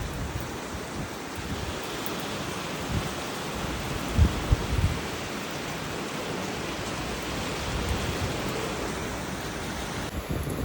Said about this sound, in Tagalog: Pasok po yung tubig ulan.